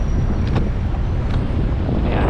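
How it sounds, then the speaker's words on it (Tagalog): Strong wind buffets the microphone in a loud, continuous rush, with no pauses, while cycling on a carbon bike near SM Aura Premier in BGC, Taguig. "nakakatakot yung lakas ng hangin, tinatangay ako"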